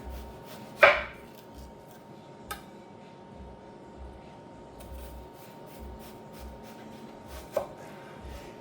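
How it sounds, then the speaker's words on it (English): A sharp knife slices thin pieces of onion on a cutting board, one crisp cut up front and a couple of lighter taps later, near and quiet with no talking. "I'm going to slice a couple pieces of this onion"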